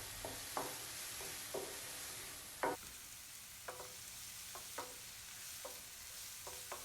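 Chopped mushrooms cooking in melted butter in a pan, a faint steady sizzle with occasional soft scraping taps of a utensil stirring, quiet and close with no talking.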